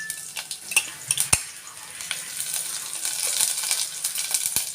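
Garlic and ginger sizzle in a pan on low heat for a vegetable soup, with a steady frying hiss and a few sharp clicks and scrapes as a utensil stirs and taps the pan, close and alone.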